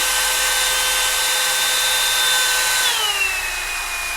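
Revlon One-Step hair dryer styler blowing on its cool setting. The whoosh is loud, close and steady, its whine drops slightly near the end, and no one speaks.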